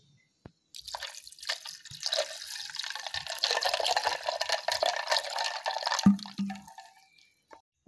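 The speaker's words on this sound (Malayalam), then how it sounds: "ഏകദേശം ഒരു രണ്ട് ഗ്ലാസ് വെള്ളം ഒഴിക്കുക" About two glasses of water poured into a mixer jar over lemon and ice cubes for coolbar lemon juice, a steady splashing stream for several seconds that tapers off near the end, with no talk.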